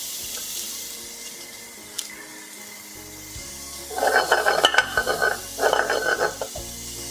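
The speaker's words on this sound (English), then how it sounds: "So we're just going to let those saute off again." Fennel and onion sautéing in butter in a pan give a quiet sizzle that swells into two loud bursts of crackling frying, likely from stirring, with no talk.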